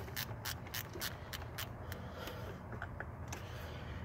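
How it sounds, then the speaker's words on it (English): A ratchet wrench loosens a spark plug coil bolt in a cramped engine bay, clicking in a quick burst of repeated pawl clicks, then slower, sparser clicks at close range with no talk. "ratchet this loose as much as you possibly can with the ratchet, because there's absolutely no room down here"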